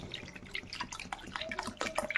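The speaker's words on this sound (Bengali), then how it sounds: "এবার একটু আন্দাজ মতন জল দিয়ে দেবো।" Water poured into a pan of tomato and tamarind chutney, a continuous close trickling and splashing with small drips throughout.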